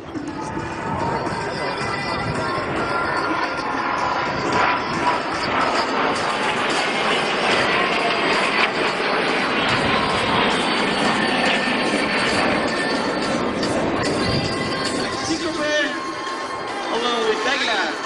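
A jet aircraft roars at an air show with a broad, sustained rushing noise that swells in the middle and carries throughout, while a commentator talks over it.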